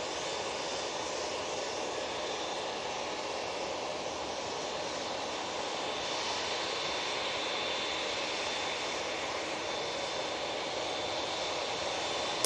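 Engines of a TUI airliner at Manchester Airport give a faint, steady jet hiss and whine that holds evenly throughout, with a thin high tone running through it.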